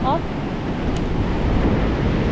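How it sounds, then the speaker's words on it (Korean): Ocean waves wash along a New Zealand shore near Auckland, a loud continuous roar of surf mixed with wind buffeting the microphone, and a brief voice at the very start. "이쪽에서 찍고 싶은데 이 파도가 오고 있어서 엄두가 안 난다"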